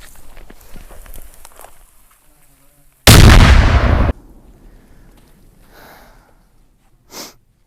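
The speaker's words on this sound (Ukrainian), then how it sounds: "тільки що застосували М67 гранату проти балістичного захисту від балістики" M67 grenade detonating against soft UHMWPE ballistic armor in an explosive test: one sudden, very loud blast that roars for about a second, then fades into faint rustling and a short later thump.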